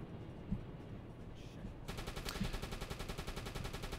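Rapid machine-gun fire from an enemy aircraft in the submarine game UBOAT, a dense rattling burst that starts partway through and keeps going steadily to the end, with a voice talking faintly beneath the shooting.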